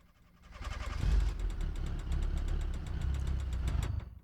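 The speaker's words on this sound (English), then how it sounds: "this car has a check engine light and a rough idle" A car engine in BeamNG.drive, with a check engine light on, runs at a rough, uneven idle with a low knocking chug that swells in after a start and continues steadily, fairly close.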